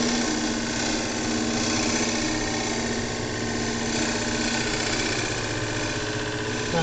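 A wood lathe runs with a tool cutting along the workpiece, the bevel kept in contact, giving a steady, dense whirring drone with a continuous scraping hiss, close and constant throughout with no speech.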